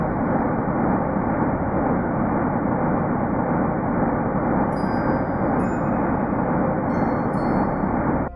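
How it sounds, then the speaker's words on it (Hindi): Sonified oldest sound of the universe, a dense, unbroken rumbling hiss like a roaring wind, loud and constant, with faint high chirps appearing in the second half. "यह है ब्रह्मांड की आवाज।"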